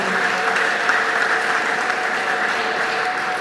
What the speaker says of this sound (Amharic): እውነት ከልባችሁ ከሆነ ለጌታ አጨብጭቡለት።